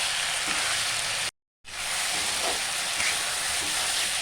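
Chicken fries in a pan for gravy with a steady, close, broadband sizzle, briefly cut out for a moment before continuing evenly.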